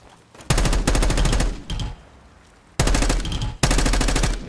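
Rapid automatic gunfire in a Black Ops 6 training course, loud bursts of closely spaced shots at targets, broken by short pauses and a brief quieter stretch, with no talking.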